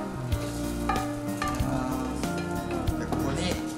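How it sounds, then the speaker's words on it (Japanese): Chopped onions sizzle and fry in a pot while being stirred for a Western-style zoni soup, a steady crackling hiss broken by repeated scraping stirs, close and loud. "玉ねぎを 鍋に入れます。"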